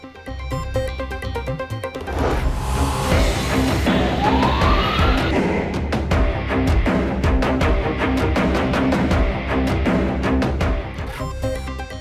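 An ambulance siren wails on a road in Lahore, rising and holding loud through most of the stretch over traffic noise, with no speech.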